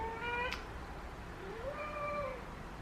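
A cat meows and cries from a cat tree indoors, giving two drawn-out wavering calls about a second apart at moderate distance, alone over faint room noise.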